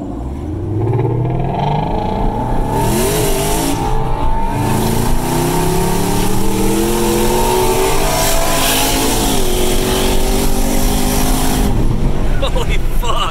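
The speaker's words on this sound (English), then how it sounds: "It's that Mustang again." A Ford Mustang accelerates hard past on a street, its loud engine roaring and rising through the revs close by, steady and powerful for the whole stretch, with people talking over it.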